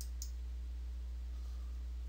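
A computer mouse clicking during a software tutorial, two quick faint clicks at the very start over a steady low electrical hum, then only the hum.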